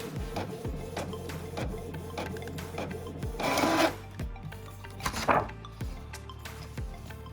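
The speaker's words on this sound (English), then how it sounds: "It acts like it's printing, but it's not printing anything." A home printer feeds cardstock with mechanical whirring, rhythmic clicks and two louder rattling bursts of its print mechanism in a quiet room.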